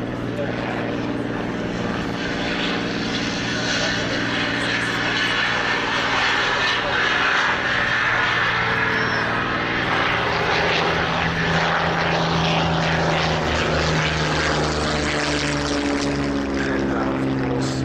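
A B-17 bomber and a P-51D Mustang fly in formation at an air show, their propeller engines producing a loud, continuous drone that holds steady throughout with a faint voice beneath.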